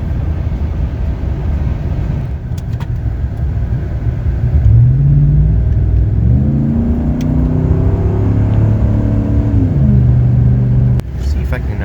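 A Chevy Silverado with a glass pack exhaust rumbles steadily as it drives, with deep low engine drone and rising, falling revs through the middle, heard from inside the cab under light background noise.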